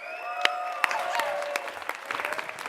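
An audience claps steadily to welcome a student startup team onto a pitch competition stage. The applause is moderately loud and even from start to finish, with a few sharper nearby claps standing out.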